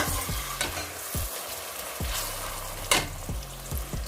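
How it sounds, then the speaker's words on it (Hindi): Stuffed eggplant masala fries in a pan while being stirred, a constant sizzle broken by repeated scraping strokes of a spoon, close and clear with no talk. "बस हम इसको 2 मिनट के लिए भूनेंगे।"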